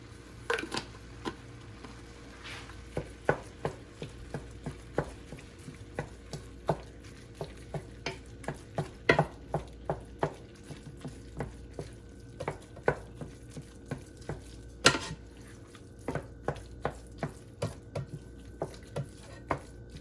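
Ground meat for homestyle chili is broken up and stirred in a pan, making a steady run of soft tapping and scraping spatula strokes over a faint low cooking hiss.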